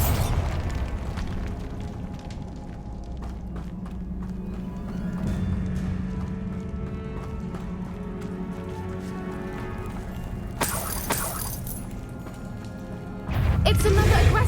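Bombarda spell explosions in the Hogwarts Legacy video game, with loud bursts and booms rising over a rumbling background of hoofbeats and creature noises; a heavy blast strikes near the end.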